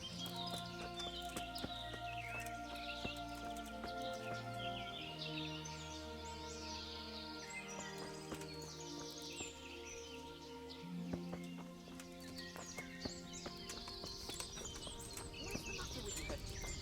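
Rhythmic clip-clop of horse hooves in the video game Kingdom Come: Deliverance, over a sustained musical score with birdsong, the steps continuing steadily throughout.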